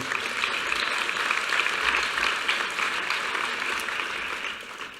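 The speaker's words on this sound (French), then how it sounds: "je crois qu'on peut applaudir Anne-Lise Tacheron pour cette magnifique œuvre" An audience applauds a finished artwork at the Red Cross art prize ceremony, steady dense clapping from a crowd that fills the room evenly and begins to fade in the last second.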